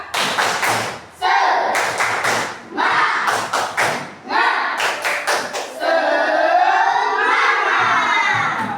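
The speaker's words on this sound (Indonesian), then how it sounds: "Kita tepuk semangat dulu. Tepuk semangat." Elementary schoolchildren in a classroom perform the rhythmic 'tepuk semangat' spirit clap, sharp group claps in quick patterned bursts alternating with loud chanted shouting, ending in a sustained drawn-out cheer.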